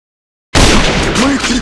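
A grenade goes off in the shooter game AVA. After half a second of silence comes a sudden, very loud explosion whose rumbling roar fills the rest of the moment.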